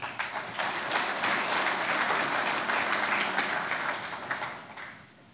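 Sustained applause from an audience honoring award-winning students at a municipal day ceremony in Čajetina, dense clapping that holds steady then tapers off.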